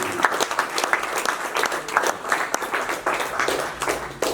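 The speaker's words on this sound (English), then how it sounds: "So a big round of applause." An audience at an English-language debate event gives a round of applause, a dense, continuous clatter of many hands, fairly close and steady, with no voices over it.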